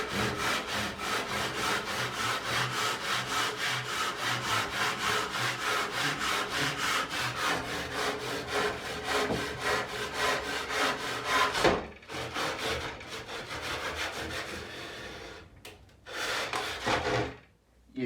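A handsaw cuts a 45-degree external mitre in Victorian hall coving, fast even back-and-forth rasping strokes close up, then a brief pause and a few final strokes before stopping.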